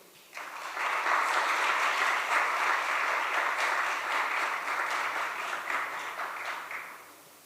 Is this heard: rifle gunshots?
no